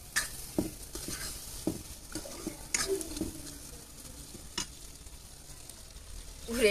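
Tomatoes sizzle and fry in a home kitchen pan while a utensil stirs and scrapes them in irregular bursts, fairly quiet and close, with no talking.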